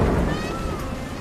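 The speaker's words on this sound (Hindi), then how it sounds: "धीरे धीरे बारिश कम होती है" Steady heavy rain during a thunderstorm over a farmer's field, a dense, loud hiss of downpour with low rumbling beneath, continuous for a brief moment.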